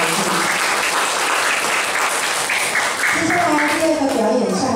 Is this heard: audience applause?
yes